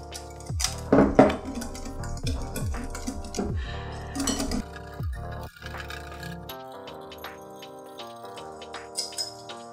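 Dalgona coffee being whisked by hand in a bowl gives a run of quick metallic clinks and taps of whisk against bowl, loudest early on, over a steady tonal musical background.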